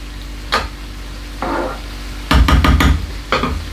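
A spoon stirs ingredients into a low-calorie prawn curry in a pan: a few separate scraping strokes, then a quicker cluster of clacking, sizzling stirs, loud and close.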